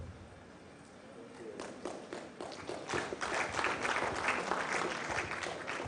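An audience claps at a blockchain conference, rising from a murmur into sustained, dense applause that swells toward the end, with voices faintly underneath.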